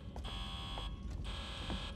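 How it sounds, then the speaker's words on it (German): Alarm in the video game Alien: Isolation: a harsh electronic buzzing tone pulses on and off in repeated bursts over a low rumbling ambience, moderately loud, with no talking. "Und Alarm ist nicht gut."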